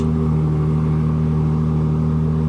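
A 2023 Ferrari 296 GTB Coupe engine runs at a steady idle just after push-button start, a close, even, loud hum with no talk over it.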